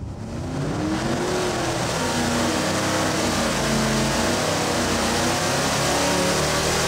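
The 600HP Mud Wagon car engine revving hard on a dyno, a loud, sustained roar holding high revs with rising and falling pitch throughout, close and unbroken.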